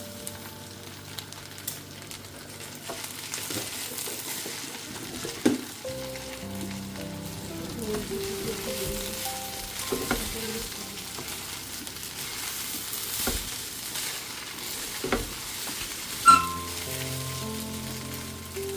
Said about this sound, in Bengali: খিচুড়ির জন্য পোলাওটা ভেজে নিচ্ছে পোলাও চালটা আর ওই পাশে মুগের ডাল ভেজে